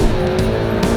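A Ferrari 488 Pista engine roars loudly up close as it accelerates hard, a strained high-revving drone with tire and road noise underneath.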